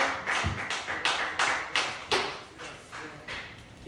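A small comedy club audience at the Colonial Tavern claps for the first comic, giving a sparse, uneven patter of individual hand claps with no talk over it.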